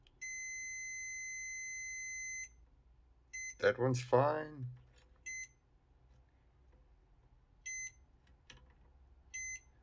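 A multimeter's continuity tester, checking diodes on an electric fence energizer circuit board, gives a long steady beep, then several short beeps later on, with a person speaking briefly between them.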